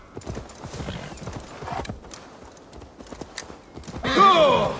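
Horse hooves gallop in a steady clip-clop rhythm in Assassin's Creed Valhalla, under intermittent talk, followed by a loud close neigh near the end.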